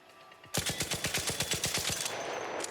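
A weapon in the ARC Raiders video game is test-fired for recoil as one rapid automatic burst of about fifteen evenly spaced shots, loud and close, followed by a brief ringing tail.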